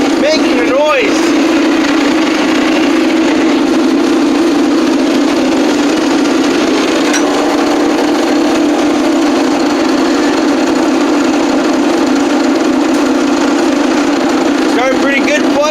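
After a cold start at 0°F with the block heater plugged in, the engine of a 1980 Case 480D runs loudly and continuously at a steady, rumbling idle, with brief voices heard at the start and end.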